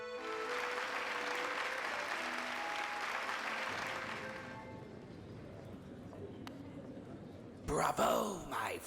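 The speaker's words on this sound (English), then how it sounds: "Hear how the crowd adores you." Crowd applauding and cheering in the Hollow Knight video game, a steady wash of clapping that fades out, followed by quieter game sounds and a short burst of noise near the end.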